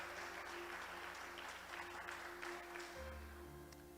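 Church congregation applauding together at a Portuguese-language prophetic service, a dense sustained wash of clapping with music playing underneath throughout.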